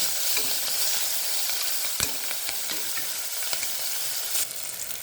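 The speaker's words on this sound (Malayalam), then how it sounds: "സോയാ ചോസ് അതൊന്ന് ഫ്രൈ ആയിട്ട് വെക്കണം" Soya chunks frying and being stirred in a pan, a steady close sizzle with scraping stir strokes and a sharp clack near the two-second mark, no voices.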